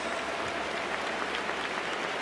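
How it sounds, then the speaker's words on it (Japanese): Stadium crowd applauding steadily to welcome the ceremonial first pitcher at a Japanese baseball game, a dense, even wash of clapping with no gaps. "大きな拍手でお迎えください。"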